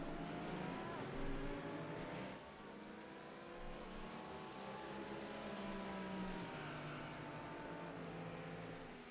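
Race cars lapping Suzuka in a sim racing game, a droning engine whine that rises and falls through gear changes, several cars running close together, with a commentator talking over it.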